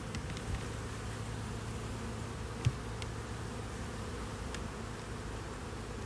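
Honeybees hum in an opened hive, a soft, steady buzzing drone that holds for several seconds with a brief tap partway through and no voices.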